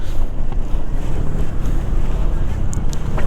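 Strong wind buffeting a microphone outdoors at a beach in Lingayen, Pangasinan, a steady loud roar with gusty rumbling throughout, near open water.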